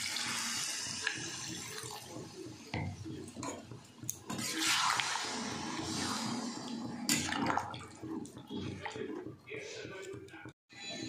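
Water poured into a pot of browned chicken curry, a gushing, splashing pour with bubbling and sizzling, moderately close, ending in a brief pause and clatter.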